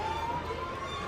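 An ambulance siren wails in a movie scene, a steady continuous tone holding throughout at moderate level over a dense background mix, with no one talking.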